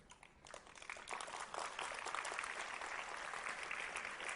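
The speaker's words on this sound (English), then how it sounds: "with a round of applause" Round of applause from the audience after a life-science lecture, dense and sustained, building slightly and holding steady throughout at a moderate distance.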